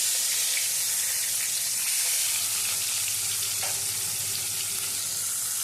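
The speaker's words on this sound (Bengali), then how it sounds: "এখন তুলছি, ফোড়ন দিচ্ছি জিরে" Cumin seeds and bay leaves temper in hot oil while mutton curry is prepared, giving a dense, continuous bright sizzle with small crackles, close and fairly loud, with no voices.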